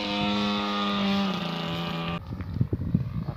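A Graupner Starlet giant radio-controlled model airplane's engine drones at half throttle with a steady high-pitched buzz, then cuts off abruptly, leaving quieter rumbling and handling noises.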